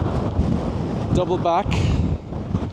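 Strong wind buffeting the microphone on a coastal path at Filey, a continuous rough rumble with gusts, while someone talks over it.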